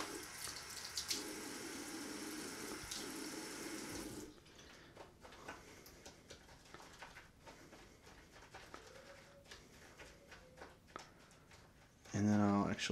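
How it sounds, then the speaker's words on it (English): Water runs steadily from a bathroom tap during a wet shave for about four seconds, then cuts to quieter handling sounds and a brief louder clatter at the end. "A splash of water."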